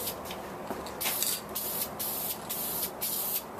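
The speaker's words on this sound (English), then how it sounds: "You know how to spray paint?" A can of Rust-Oleum American Accent spray paint hisses in a series of short, steady bursts, each spray lasting under a second with brief pauses between.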